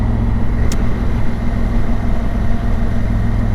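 Honda Africa Twin, a big heavy touring motorcycle, on a commute: a steady, loud low engine drone with constant road rumble, running evenly throughout without speech.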